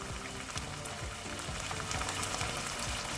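Hot pepper sauce hitting a hot pan for a Haitian Good Friday breakfast, a steady close frying sizzle with soft bubbling and crackle throughout, no voices.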